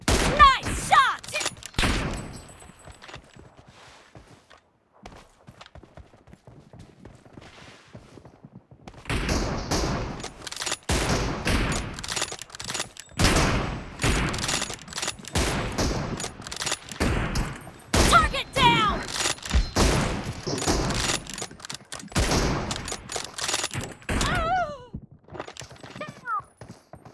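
Gunfire in a video game, dense bursts of rapid shots that go quiet partway through and then resume heavily, with players talking over the shooting.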